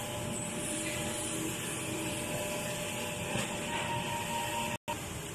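An inkjet printer runs a nozzle check print with a continuous, even mechanical whir and hiss that holds steady throughout. A split-second dropout comes just before the end.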